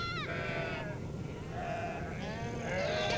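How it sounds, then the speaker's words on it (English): Sheep bleat on the open Mongolian grassland, two or three wavering calls standing out clearly over a steady outdoor background hum. "Tending the sheep"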